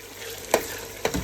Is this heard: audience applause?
no